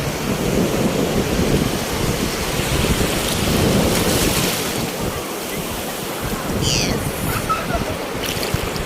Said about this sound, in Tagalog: Ang lalakas ng wave, oh.